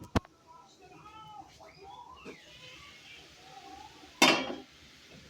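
A lid set down over a frying pan of papaya and rohu fish bhaji in a village kitchen, giving one sharp metallic clank near the end, with soft stirring clinks and quiet sounds before it.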